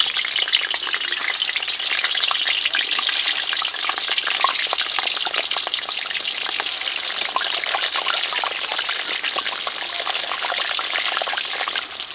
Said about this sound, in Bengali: আলু ভাজার জন্য প্রথমে কড়াইতে সরিষার তেল দিয়ে দিয়েছি